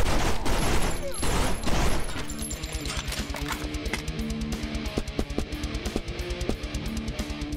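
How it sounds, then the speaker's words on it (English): Video game gunfire rattling in a rapid fusillade of repeated shots, loud and close, with steady game music running underneath. "Apparently, I shot as I exited the menu."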